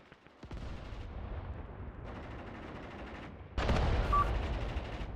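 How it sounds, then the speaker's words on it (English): Mortar and artillery fire in the video game Mius Front: faint booming blasts rumble at a distance, then a louder, closer burst of gunfire and explosions swells near the end; no talk. "The mortars are working now,"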